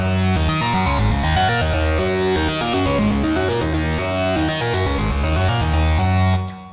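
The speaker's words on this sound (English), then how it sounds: "I use a large space spring reverb, modern spring" Synth parts pass through a large modern spring reverb in Logic Pro, a dense layered line with a washy, spacious tail. It plays alone at steady volume, then stops abruptly near the end.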